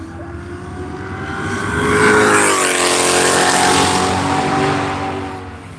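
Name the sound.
BMW M4 race car driving on track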